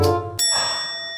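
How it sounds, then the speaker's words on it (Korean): A KakaoTalk message notification chimes once on a phone: a bright, clear bell-like ding that rings out and slowly fades, loud and alone. "나 카톡 올 사람이 없는데 누가 카톡 올렸지?"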